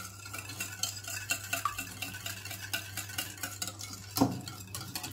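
Butter and cake batter for an apple cake being stirred in a bowl, a steady soft scraping and clinking of the utensil against the bowl with one sharper knock near the end, close and fairly quiet with no talking.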